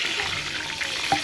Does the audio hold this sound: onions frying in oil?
yes